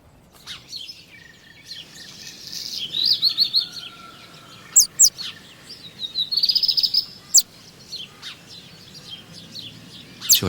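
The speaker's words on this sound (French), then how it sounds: "Sur la terrasse, le merle noir s'affaire." A Eurasian blackbird on a terrace giving a series of sharp chirps and whistled phrases, scattered irregularly over several seconds against a quiet background.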